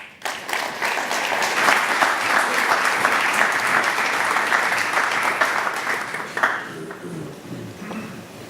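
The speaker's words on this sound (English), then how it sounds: "please give a warm round of applause" An audience gives sustained, even applause at the UEFA Futsal EURO 2018 group draw ceremony, dense clapping that holds steady for several seconds before tapering off as it thins out.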